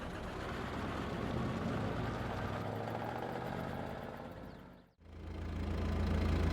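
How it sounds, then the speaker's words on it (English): A Kubota tractor engine in Farming Simulator 22 drones steadily with a low, even hum, cuts out for a moment, then returns louder and deeper. "I want to take the tractor down there and start putting out fertilizer."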